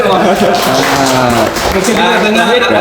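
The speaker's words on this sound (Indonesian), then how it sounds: "Tepuk tangan dulu." Applause from an audience at an Indonesian economic census outreach event, dense clapping lasting a few seconds with voices mixed in throughout.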